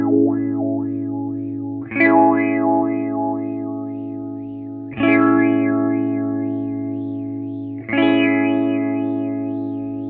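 An instrument run through a Beetronics Zzombee Filtremulator pedal in filter mode with the wingspan control set, giving three sustained chords spaced a few seconds apart, each swept by a wobbling, warbling filter.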